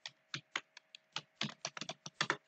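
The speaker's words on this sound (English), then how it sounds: "So if I hit enter on the keyboard" Keys on a computer keyboard are typed in quick irregular bursts, a dozen or so crisp close clicks over a couple of seconds with no talking.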